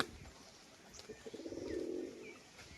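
Pet pigeon, a female kept as a show bird, gives a soft, low throaty coo that swells in the middle and fades, quiet and close, with faint background noise.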